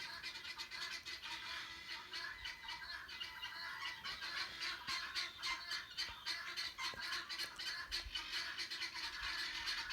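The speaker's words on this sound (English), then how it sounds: "You hear my birds are freaking out because they hear my voice" Birds squawk and chatter continuously, a busy, raucous flurry of harsh calls that fills the whole stretch.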